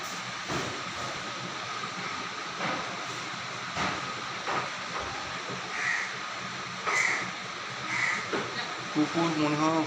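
Crows caw in several short, harsh calls scattered over a steady hissing, rumbling background like nearby rail traffic, with faint voices in the mix.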